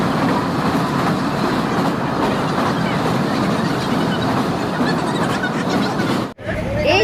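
Crowded passenger train running on the rails, a loud continuous rumble and rattle of the carriages, close and steady, with a brief dip near the end.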